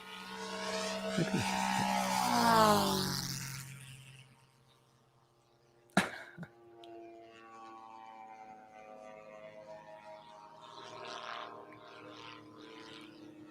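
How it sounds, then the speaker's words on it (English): A small RC model aircraft engine running slightly rich buzzes loudly with a burbling note and climbs in pitch for a few seconds. A sharp click follows, then a quieter, steadier drone continues in the background. "Engine's still a little bit rich. You can hear it a little bit burbling, so it's fairly new."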